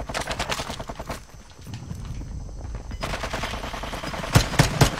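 Automatic gunfire in the video game Warzone, with rapid bursts of shots up close, a short lull, then more bursts and a few louder single hits near the end.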